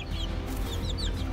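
A rooster on a breeding farm gives a few soft clucks amid other fowl, with short chirping calls over a steady low background noise.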